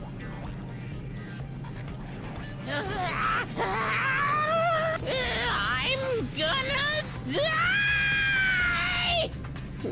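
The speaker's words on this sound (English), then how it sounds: "He's doing a very bad scream." A Danganronpa 2 game character lets out a drawn-out, wavering scream with rising and falling pitch, loud and close, broken into several sustained wails over steady background music, with a brief line of speech near the start.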